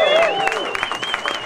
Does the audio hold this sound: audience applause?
yes